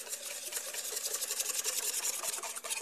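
Whisk scraping rapidly around a bowl as white sugar is beaten into egg yolks for zabaglione, a quiet, steady rasping rhythm close by with no talking.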